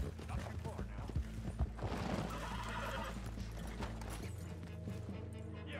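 A horse neighs with clip-clopping hooves in the Red Dead Redemption 2 Online video game, heard up close over a busy, steady bed of game ambience and music.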